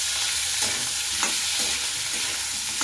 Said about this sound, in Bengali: এইভাবেই আমরা আলুগুলি নাড়বো